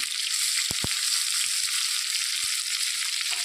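Ginger garlic paste fries in a pan with marinated goat meat. A dense, even sizzle holds throughout, broken by a few soft, low knocks from the spoon.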